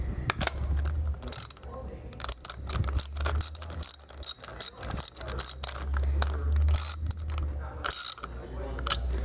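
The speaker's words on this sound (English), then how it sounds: "And I'll use a 17mm socket to tighten this down." Rapid bursts of ratchet clicking from a ratchet with a 17mm socket tightening the head nut on a Redmax straight-shaft trimmer fitted with a Gator SpeedLoad head, close and crisp, with short pauses between strokes.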